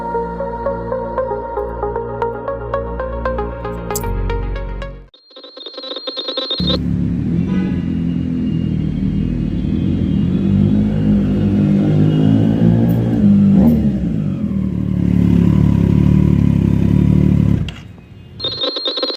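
A Triumph Street Triple RS motorcycle engine revs loud and close for about ten seconds, its rough throbbing tone rising and falling, after a stretch of tonal ringing sounds at the start.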